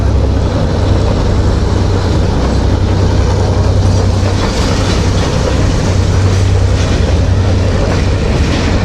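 A PDK shuttle train bound for Khewra runs steadily on its rails, with a loud continuous rumble and rhythmic clickety-clack of the wagons lasting throughout, no voices present.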